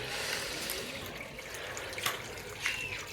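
Water pours and trickles into a washing machine tub, a soft continuous splashing with a few louder drips and gurgles, fairly close and quiet with no talk over it.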